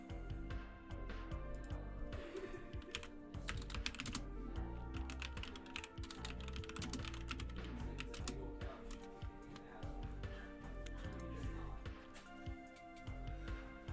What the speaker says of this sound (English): Sorry, I'm typing out something in promo.